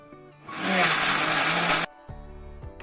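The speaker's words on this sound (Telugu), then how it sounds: "ఇప్పుడు దీన్ని మిక్సీ పట్టుకుందాం మెత్తగా గుజ్జు మాదిరిగా" A mixer grinder grinding tamarind into pulp whirs loudly for over a second in one burst, then stops abruptly, leaving a low background hum.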